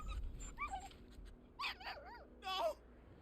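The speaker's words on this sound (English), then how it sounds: "Wait, did the dog really intervene?" Dog whimpering in the Final Fantasy XVI video game, several short high whining yelps in quick succession, fairly quiet over a low background rumble.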